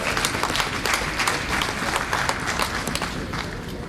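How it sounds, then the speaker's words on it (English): Steady, dense applause from a forum audience at a women in the security sector event, honoring an award recipient; continuous crowd clapping throughout, fairly loud, with no clear speech. "Please, let's all give her a round of applause"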